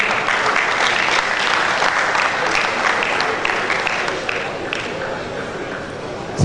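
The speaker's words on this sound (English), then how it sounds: "So he deserved all the clap" An audience at a youth Scrabble championship gala applauds, a thick continuous wash of clapping that fades slightly toward the end, with voices faintly mixed in.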